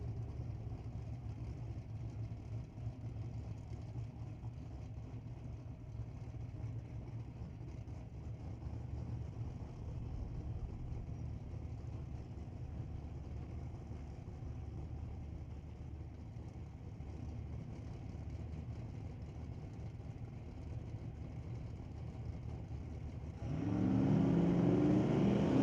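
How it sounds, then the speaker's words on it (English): Drag-racing Camaros, one a 2000 Camaro with a 364 cubic inch LS V8, drone steadily from a distance as a low engine rumble, with a louder rougher surge right at the end. "racing up against the 2000 Camaro with a 364 cubic inch LS motor under the hood"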